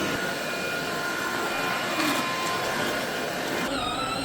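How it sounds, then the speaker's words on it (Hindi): A new hoover vacuums floors during deep cleaning at home, its steady broadband motor whine loud and constant throughout, with a brief shift in tone near the end. "अच्छे से वैक्यूम लगाते हैं।"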